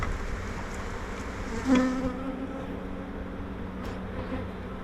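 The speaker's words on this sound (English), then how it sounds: "Bees everywhere." Honey bees buzz steadily all around an 8-frame hive, a dense close drone that holds throughout, with a brief louder whir as one passes near.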